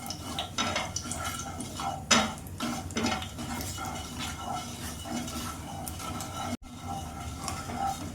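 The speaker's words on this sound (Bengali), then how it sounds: "একটু ভালো একটু নেড়ে নিই ফোড়নটা।" A spoon stirs spice tempering in a frying pan for a fish curry, scraping and clinking against the metal in repeated strokes over a low sizzle, with one sharper knock early on and a brief cut later.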